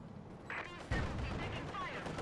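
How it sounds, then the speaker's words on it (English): Panzer IV 75mm tank cannon firing in the Company of Heroes 2 strategy game, a heavy boom about a second in, set within a busy battlefield din of other gunfire and explosions while a commentator talks over it. "Panzer IV keeps blasting away with its 75mm cannon."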